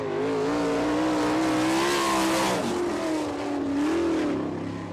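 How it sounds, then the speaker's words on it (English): A race car with a Kistler engine and Maxim chassis runs a qualifying lap on a dirt track at Haubstadt, Indiana. The engine roars loud and close, its pitch climbing, dipping sharply, then rising again. "driving the Kistler engine, Maxim chassis, Heartland Trailer Manufacturing, the Fury from Missouri, the 12H of Jared Ha"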